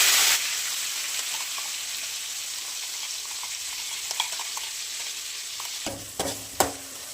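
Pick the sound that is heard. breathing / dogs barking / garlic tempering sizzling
garlic tempering sizzling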